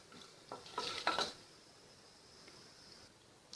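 Spices spluttering in a pan for cashew pulao, a faint sizzle with a cluster of scraping stirs and utensil taps in the first half, then quiet crackling.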